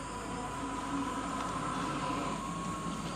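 A train passes near a village at night, a continuous, even rumble with a faint tonal hum that holds steady throughout.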